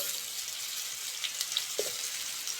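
Potato, radish and taro pieces going into hot frying oil for a Bengali shukto, a bright continuous sizzle with a few small pops and crackles, close and steady.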